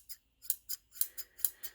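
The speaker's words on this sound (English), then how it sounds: "that's a good pair of scissors" Vintage Clauss scissors snipping, about seven crisp, close metallic cuts in a quick uneven rhythm with brief silences between, no voices.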